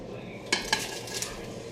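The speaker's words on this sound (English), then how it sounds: "So now, I'm just going to add the meat to it." Turkey meat being added to broth in a pot, a few clanking utensil and pot knocks and soft scrapes, close and fairly quiet, with no talk.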